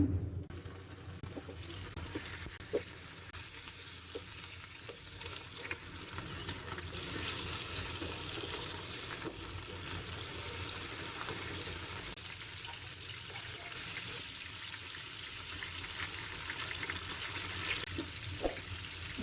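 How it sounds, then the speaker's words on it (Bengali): Hot vegetable oil sizzles and crackles continuously as chicken fries in a wok, a steady hissing bed with occasional sharper pops. "এখন আমি সাদা তেল দিয়ে ভেজে নেব"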